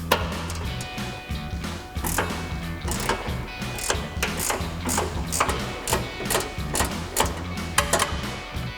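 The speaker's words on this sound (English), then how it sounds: "For our inner one, our 13 mil ratchet wrench." A 13 mm ratchet wrench works an exhaust bolt loose on a Corvette axle-back exhaust, its pawl clicking in quick repeated bursts with clanks and metal knocks, close and fairly loud, no voices.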